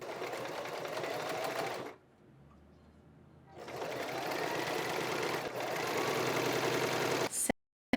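A sewing machine hemming thin chiffon-like fabric runs with a fast, steady mechanical whirr up close, stops briefly, then starts again and runs until an abrupt cut near the end.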